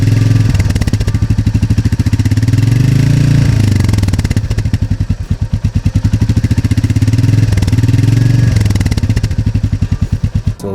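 A Royal Enfield Meteor 350 classic motorcycle idles up close with a steady, loud single-cylinder thump, a rhythmic mechanical beat that briefly swells and settles a couple of times, alone without voices.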